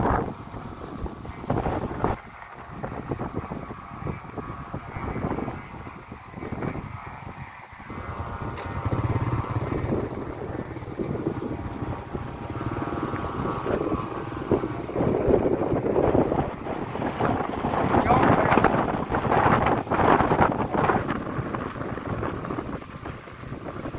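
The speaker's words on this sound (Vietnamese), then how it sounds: "hôm nay được bữa gió quá gió." Strong, gusty wind blows outdoors during kite flying, a loud continuous roar buffeting the microphone for the whole stretch with no talking.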